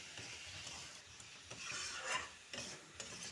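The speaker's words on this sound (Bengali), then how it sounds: "দিয়ে এটাকে ভালো করে এবার কষিয়ে নেব" Spices, including turmeric, cumin and coriander powder, being sautéed for an egg omelet curry in a pan: soft sizzling with stirring and scraping, faint and close, no talking.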